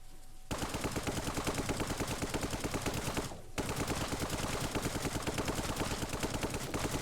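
Turret gunfire in the video game Brick Rigs rattles out in dense, rapid automatic bursts, loud and continuous, broken by one short gap in the middle.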